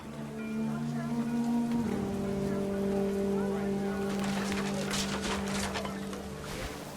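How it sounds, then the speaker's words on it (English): Steady heavy rain in the video game What Remains of Edith Finch patters against a surface over a low sustained hum, the pattering growing denser and louder in the second half. "The rain came down in buckets then"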